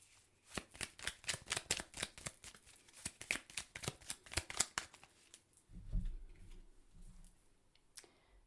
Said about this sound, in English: let's pull a quick clarifying card